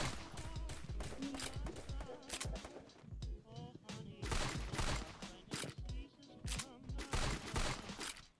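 Rapid bursts of gunfire in the video game Free Fire crackle continuously, dense volleys of shots layered over one another with brief lulls between.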